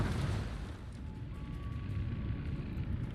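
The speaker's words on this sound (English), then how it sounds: "Take 2 more torpedoes." Torpedo hits exploding against a tier 10 Russian battleship, the Slava, in World of Warships: a dense, continuous low rumble of blasts with a thin tone running through the middle, no voices.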